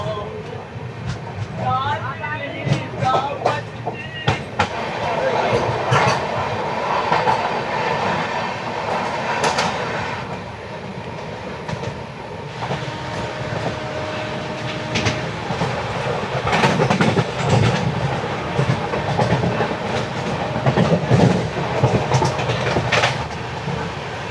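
Janhit Express passenger train running from Patna toward Purnia, a continuous rattling rumble with clickety-clack wheel beats and occasional squeals heard from inside a coach, with people talking throughout.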